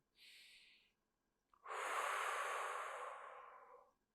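Slow breathing during a seated hip stretch for internal and external hip rotation: a short soft inhale, a pause, then a long, steady, airy exhale lasting over two seconds, close to the mic and with no talk.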